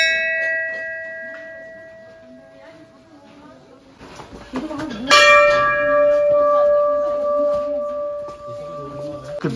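Many brass bells hung at Dunagiri temple in Uttarakhand ring out, a single clear tone first, then several bells struck in quick succession, loud and close with long ringing overtones.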